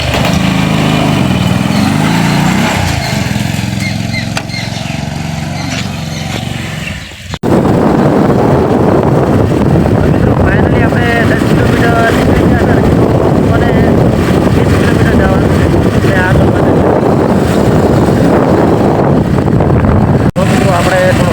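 A motorbike ridden along a road on a trip to a wedding, engine droning steadily with heavy wind rush against the microphone, loud and continuous after a brief pause, with occasional talk.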